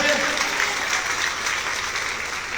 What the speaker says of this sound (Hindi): एक बार अपने अपने नाम पर ताली बजाइए।